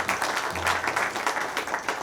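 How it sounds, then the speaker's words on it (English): Dense, steady clapping from a crowd fills the whole stretch, with a low murmur briefly underneath. "I think we ought to give him a round of applause"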